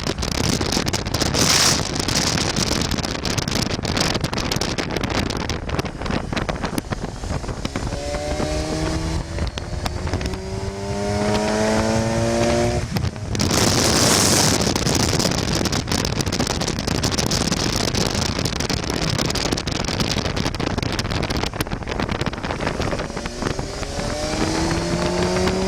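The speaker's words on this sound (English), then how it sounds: "I'll give it a little acceleration so I can see the bike working a little bit" A 2015 Kawasaki Versys 1000 motorcycle accelerating on the road, its engine note rising through several gears in stepped climbs under heavy, continuous wind rush.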